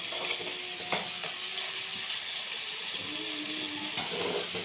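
Tomatoes and onions, salted, cook in a pan for a village-style brinjal oro, giving a loud, constant sizzle broken by a few soft scraping stirs, with no talk.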